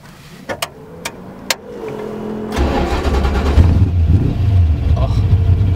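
A new Ford Mustang starts up close by with a loud crank and catch, then settles into a steady, rumbling idle with blips of revving. A few clicks come before the start.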